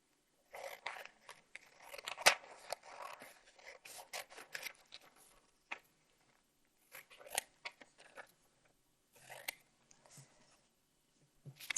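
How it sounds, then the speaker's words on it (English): Scissors snipping through paper to cut out letter tiles, with irregular bursts of close, crisp cuts and rustling separated by short pauses. "going to cut those letters up today so that we can move them around and make new words"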